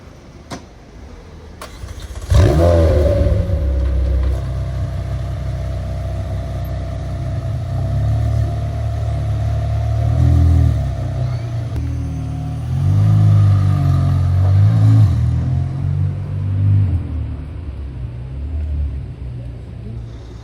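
A McLaren supercar at a Porsche gathering in Deauville fires up with a loud bark, then settles into a deep, rumbling idle punctuated by several throaty revs, close by and dominating the scene.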